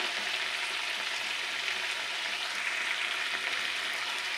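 Green chili paste fries with spices in a pan, a dense, continuous sizzle that stays close and even throughout with no voices.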